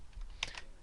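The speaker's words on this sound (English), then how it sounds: "I'm going to type oil." Quick typing on a computer keyboard for an Excel shortcut, a short burst of a few close, light key clicks.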